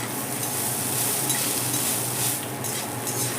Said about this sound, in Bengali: ঘিয়ের মধ্যে এবার আমি নারকেলটা খুব ভালো করে নেড়ে নিচ্ছি